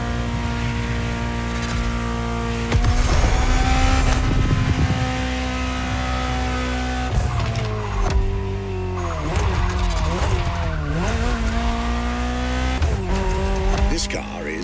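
A Ferrari GTO in The Crew Motorfest, its engine droning steadily with rising and falling revs and stretches of tire squeal as it slides, loud and continuous with someone talking over it.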